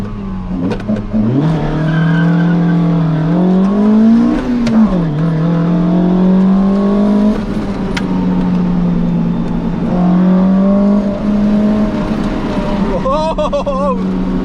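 A Toyota MR2 is driven hard around a track in second gear, its engine loud and close as the revs swing up and down through corners, with brief tire squeal and a voice talking over it.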